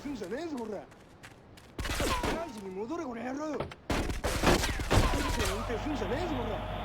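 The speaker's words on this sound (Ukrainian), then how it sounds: "Вони обстрілюють машину картеля." Bursts of rapid gunfire in Grand Theft Auto III: The Definitive Edition, shooting at a cartel car, crackle through a busy mix with a voice talking over it, shots sharp and fairly close.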